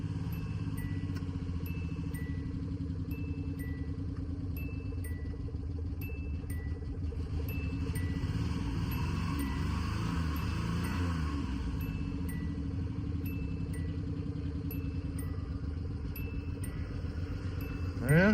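A Subaru Justy car engine idles steadily and close by at about 1,000 rpm, a continuous low rumble with no talking, ending in a brief click.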